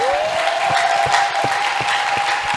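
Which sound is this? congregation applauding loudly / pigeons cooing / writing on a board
congregation applauding loudly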